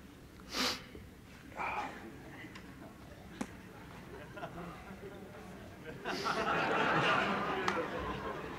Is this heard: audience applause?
no